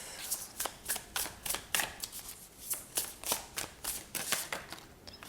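A deck of tarot cards is shuffled by hand in a quick, irregular run of crisp riffling snaps, close and soft, repeating about a dozen times over several seconds.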